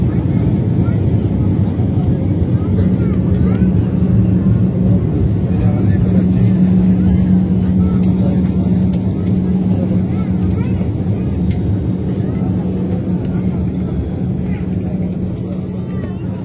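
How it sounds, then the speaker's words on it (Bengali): Steady loud roar inside a US-Bangla Airlines Airbus airliner landing and taxiing at Dhaka airport, a continuous low engine and rolling rumble with a faint tonal hum throughout. "Smooth and safe landing BG316 Dhaka এয়ারপোর্টে।"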